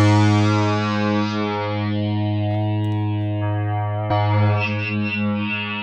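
A Zebralette wavetable synth plugin plays a sustained, rich buzzy tone with a slowly shifting timbre, then a fresh note attack near the end, with a chorus-like, distorted character and no voices.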